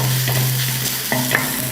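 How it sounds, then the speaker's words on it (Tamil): Crushed spicy masala sautéed in a pan for a village-style fish fry, a short burst of sizzling with scraping stirs of a spatula against the pan, close and clear. "மசாலா வதக்கி பண்ணி லைட்டாக போட்டு வதக்கிட்டு"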